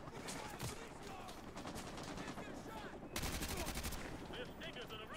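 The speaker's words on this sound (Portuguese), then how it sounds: "é muito tiro" Rapid bursts of gunfire in Call of Duty: Modern Warfare 2 Remastered crackle continuously, with a denser volley of shots midway, amid game action noise and faint voices.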